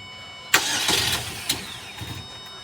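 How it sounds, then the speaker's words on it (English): A car engine cranks during an attempt to start after the computer is jumped to ground on a no-crank, no-start fault, with a few uneven bursts of starter and engine noise that fail to settle into running. "Crank it now."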